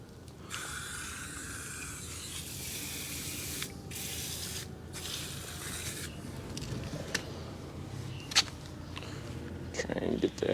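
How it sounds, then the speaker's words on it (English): Steady hiss of a water spray rinsing a driveway while a one-owner Alfa Romeo Spider is washed, continuous and fairly loud with brief breaks in the stream and a few clicks near the end. "Rinse the driveway."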